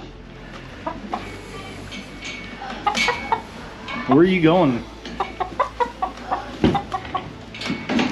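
A chicken clucks repeatedly in short bursts, with one louder drawn-out squawk midway, alongside a person's brief speech and some clattering.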